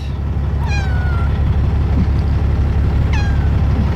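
A cat meows twice inside a truck cab, about two seconds apart, close and clear over a low steady truck engine rumble.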